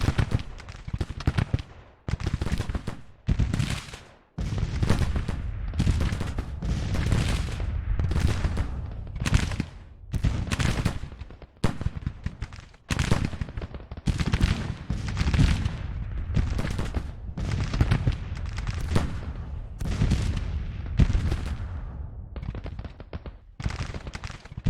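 Cannon and gun fire from a Civil War strategy battle in Georgia: a long, dense string of booming, crackling volleys comes in repeated waves that swell and drop, loud and close, with almost no voices.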